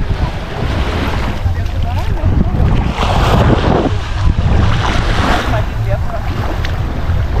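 Sea surf on a beach in Tunisia, a loud, continuous wash of breaking waves mixed with heavy wind buffeting the microphone while people talk nearby.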